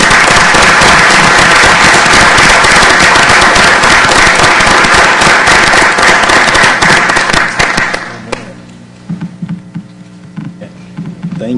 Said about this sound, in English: So when you give applause, give it to them.